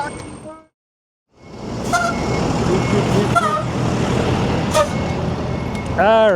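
A truck passes along a city street in Washington, D.C., its broad engine rumble steady and loud for several seconds after a brief silence, with a horn-like tone and whooping sweeps near the end and a voice talking over it.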